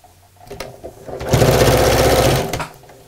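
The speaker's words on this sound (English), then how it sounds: "I'm just going to sew quite close to the edge to hold those two pieces together" A sewing machine starts with a few short stitches, then runs in a fast, steady whirring burst for about a second while stitching close to the edge of a tote bag panel, before slowing and stopping.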